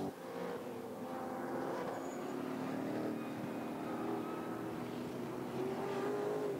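GT4 race cars, including a Maserati, lapping during qualifying at the Nurburgring, heard as a faint, distant engine drone that holds steady throughout without sharp peaks.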